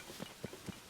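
Quick, even clip-clop of horse hooves in Zelda: Tears of the Kingdom, about four or five soft thuds in a trotting rhythm, quiet and alone without speech.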